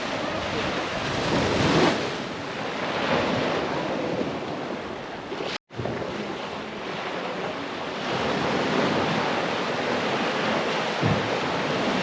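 Ocean waves wash onto a beach beneath cliffs in Portugal, making a steady, loud roar of surf mixed with gusty wind buffeting the microphone, with one brief dropout partway through.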